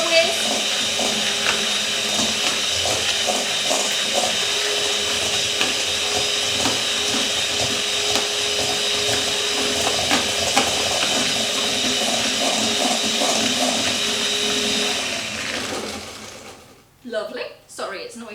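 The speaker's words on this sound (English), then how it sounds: "I've just got a hand mix, and I'm just going to quickly give that a whisk" A hand mixer whirs steadily for about fifteen seconds, whisking brown sugar and caster sugar in a bowl, loud and close with a high motor whine, then stops abruptly, followed by brief clatter.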